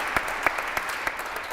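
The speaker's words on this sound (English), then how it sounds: "give yourselves a round of applause for being here" Scattered hand claps from an audience at a church forum ring out, a few distinct, evenly spaced claps over a soft room hiss, like the tail end of a round of applause.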